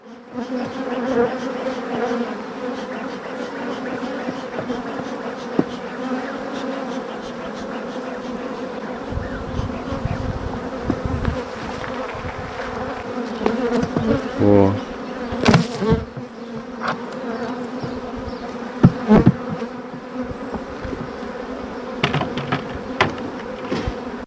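A dense, steady drone of many honeybees buzzing close by, continuous throughout, with a few faint knocks and clicks scattered in.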